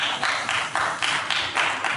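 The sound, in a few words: Paula White clapping hard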